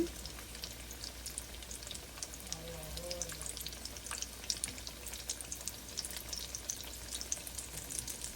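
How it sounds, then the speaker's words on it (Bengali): A chicken cutlet fries in a pan with a faint, steady crackle and fine popping, and a voice is briefly heard faintly under the sizzle. "ভাজা হচ্ছে কিন্তু এটা ভাঙবে না"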